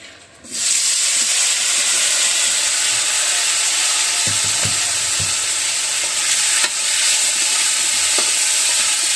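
Eggplant dropped into a pan of frying hilsa fish, setting off a loud, steady sizzle with a few faint utensil taps underneath, no voices.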